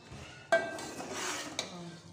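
Semolina roasting in a pan for sweet suji halwa, with a sharp clatter of a metal spoon against the pan followed by soft scraping stirs and a second quieter knock, close and faint.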